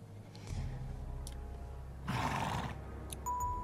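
A horse whinnies in an Alexandra Ledermann 6 riding video game, a bright neighing burst standing out over steady game background sound, with other short effects around it.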